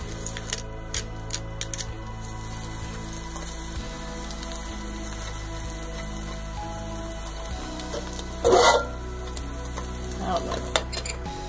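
Eggs frying in a pan on a stove with onion powder and salt, a steady soft sizzle running throughout, with a brief louder crackling burst near the end and faint stirring clinks.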